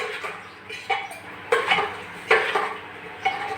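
Spoon stirring salt into an onion and potato curry in a pot, a series of scraping, clinking strokes in an irregular rhythm, close and alone.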